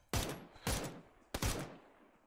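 Three sharp gunshot bursts ring out in the PUBG video game, each a loud close crack with a decaying tail, spaced roughly half a second apart with no talking.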